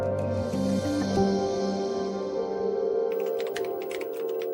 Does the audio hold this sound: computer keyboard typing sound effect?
yes